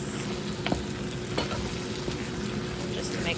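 Ingredients being mixed in a hot frying pan, with a continuous sizzle and a few light scrapes and clicks from a utensil against the pan, close and even in level, with no talking.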